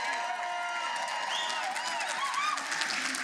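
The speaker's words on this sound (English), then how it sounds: "So let's have a round of applause for the parents." An audience at a national competition evening applauds and cheers for the parents, a steady crowd roar with scattered whoops and a voice over it.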